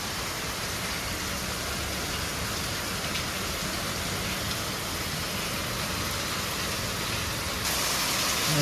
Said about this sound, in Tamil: நல்ல மழை ஒன்று அடிக்குது.